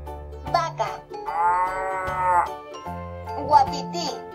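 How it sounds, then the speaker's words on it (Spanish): A cow's moo from a children's animal picture book, a single drawn-out tonal call of about a second heard between chimes and short musical notes, with no talk over it. "Vaca."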